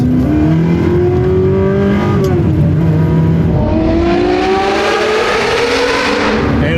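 A Ferrari 360 V8 engine screams upward in pitch toward 9,000 RPM, dips briefly, then climbs again to a loud, sustained wail, close and alone.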